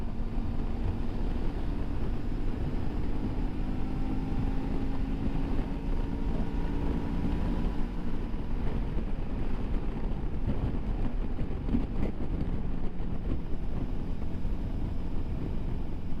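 A Suzuki V-Strom DL650 XT motorcycle climbing a steep hill in fifth gear: a steady engine drone with a slowly rising pitch, buried under constant heavy wind rush, continuous and without speech.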